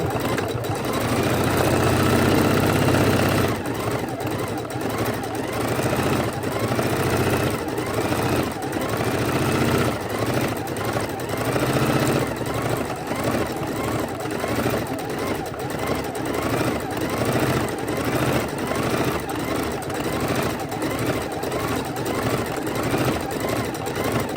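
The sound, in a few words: sewing machine stitching raw edge appliqué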